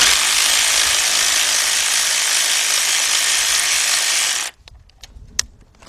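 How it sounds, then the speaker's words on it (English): A 3/8 drive ratchet working a bolt on a Cadillac or GM starter job, a loud, dense, buzzing rattle that runs for about four seconds, then cuts off into a few sparse clicks and knocks. "you're gonna be using a 3/8 drive ratchet"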